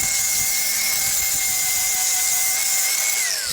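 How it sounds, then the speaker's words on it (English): Grinder scouring weld spatter off a cargo trailer axle: a loud, steady, high-pitched whine held throughout, dipping and winding down at the very end, with no talking. "So here I'm just grinding all the splatter off from the weld."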